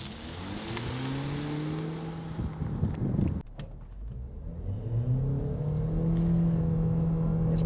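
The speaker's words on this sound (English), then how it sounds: "We're going to go all the way through to 120 so we can see what the 80 to 120 acceleration is like" GWM Haval Jolion (2025) accelerating hard from a standstill toward 120 km/h, a steady, loud engine drone rising in pitch, dipping briefly at a gear change, then climbing again.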